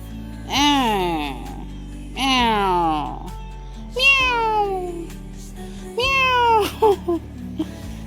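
A house cat meowing loudly nearby, four drawn-out rising-falling meows spaced a couple of seconds apart, with a few short sounds after the last one.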